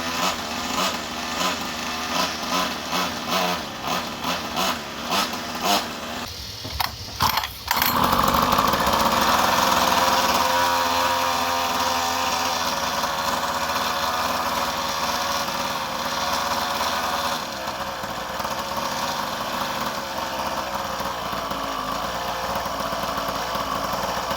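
A 50cc pocket quad with a big bore engine setup revs loudly on a test ride, first sputtering in short bursts, then holding a sustained high-pitched buzzing whine that stays close and loud.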